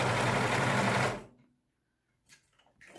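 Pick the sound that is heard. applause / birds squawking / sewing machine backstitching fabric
sewing machine backstitching fabric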